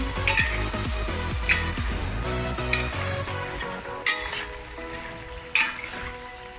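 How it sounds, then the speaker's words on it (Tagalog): Pinakbet vegetables with bitter melon are stirred in a pan, a spoon scraping and knocking in a quick irregular rhythm over a soft sizzle, with a few louder clanks. There is no talk. "Haluin lang po natin."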